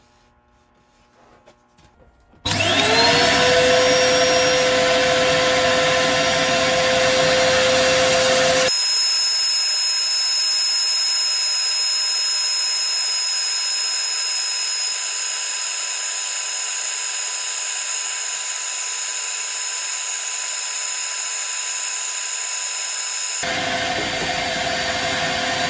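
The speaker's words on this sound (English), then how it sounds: "Right, I'll start sanding." A lathe spins up and runs with a steady whine while a woodturning piece is sanded, a high tone holding throughout, loud and continuous with no talk.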